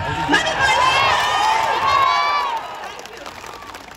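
A crowd at a protest rally at Jantar Mantar, Delhi, shouts and cheers, with raised voices rising together before the noise fades toward the end.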